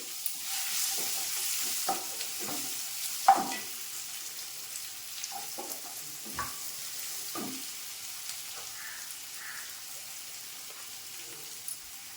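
Two handfuls of chopped big onions sizzle and fry steadily in a pan for crab gravy, with a continuous soft hiss broken by occasional stirring scrapes and clicks close by.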